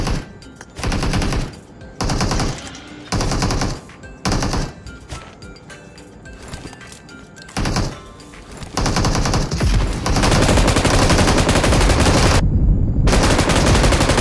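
Loud gunfire from the mobile game PUBG Mobile, with several sustained automatic bursts separated by short gaps, then a long, dense stretch of continuous firing up close with no speech.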